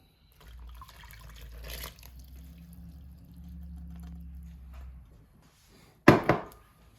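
Buttermilk and coconut milk being poured into dry cornbread ingredients, a soft, low liquid glug and trickle lasting several seconds, then quiet, followed by a brief sharp clatter and splash.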